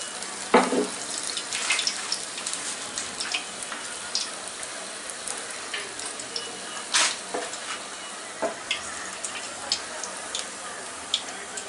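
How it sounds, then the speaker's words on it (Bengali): Coriander leaf pakora batter frying in hot oil, a soft continuous sizzle with scattered sharp pops and crackles close by. "দুইটা দুইটাই করে ভাজি"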